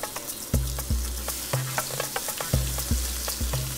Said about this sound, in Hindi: इसे 3-4 मिनट तक अच्छे से भून लेना है, जब तक मसाले से तेल ना छूटे।